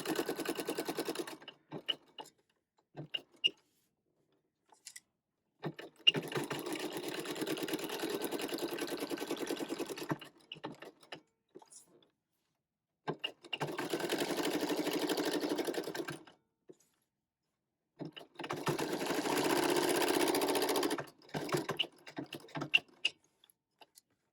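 Sewing machine stitching around the edge of a small gift card holder, four separate runs of quick rhythmic needle clatter, close up, with quiet handling clicks in the gaps between them.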